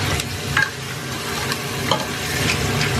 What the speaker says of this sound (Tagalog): Habang ginigisa.